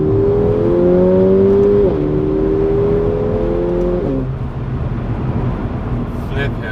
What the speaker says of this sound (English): just hooning this car around, because it's such a beast